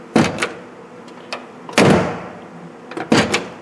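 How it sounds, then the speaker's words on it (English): Door of a 1968-1973 Opel GT with a newly installed seal shut firmly three times, each a close, solid thud with a short latch click, separated by quieter pauses. "I'll shut the door. Door shuts, no issue."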